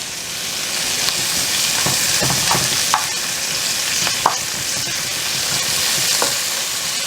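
Onion and garlic cloves frying in a hot pan, a steady loud sizzle throughout with occasional light clinks and pops, no talking.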